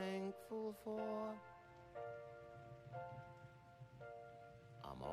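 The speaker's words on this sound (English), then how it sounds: "Gee, I'm glad it's raining." Rain falls in a scene from Ernest Goes to Camp, a faint, steady patter running beneath sustained musical notes that come and go.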